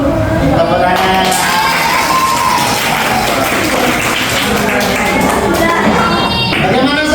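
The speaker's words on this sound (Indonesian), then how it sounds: "Tepuk tangan." Applause and cheering from a secondary-school classroom in Indonesia, a steady dense clatter of clapping mixed with shouts and whoops lasting several seconds, loud and close throughout.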